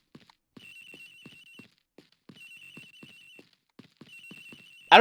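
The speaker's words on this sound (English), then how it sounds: "It's ringing from somewhere, sir. I hear it, detective." A telephone rings in the Ace Attorney Investigations: Miles Edgeworth video game, with thin electronic ring bursts repeating in a steady pattern over soft in-game footsteps, ending in a sudden loud burst.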